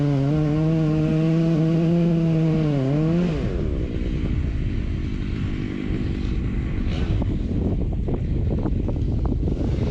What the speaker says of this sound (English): the wind is blowing right at the house, so that really helps